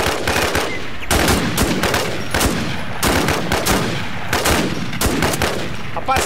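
Gunfire in the survival shooter game Infestation, with dense bursts of automatic rifle fire rattling almost without pause, loud and close, in repeated volleys.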